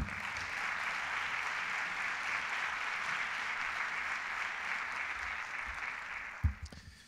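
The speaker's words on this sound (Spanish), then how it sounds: "Le cedo la palabra para que abra este acto y pido para ello un fuerte aplauso." Steady audience applause at a Valladolid business event, welcoming the city's mayor, holding even for about six seconds, then a sharp thump and a quick fade as the clapping dies away.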